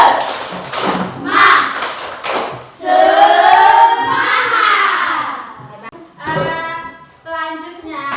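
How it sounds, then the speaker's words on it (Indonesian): Classroom of children doing a rhythmic spirit clap, chanting loudly together in Indonesian with patterned claps and taps, close and energetic, voices dominating over the hand sounds. "Tepuk semangat."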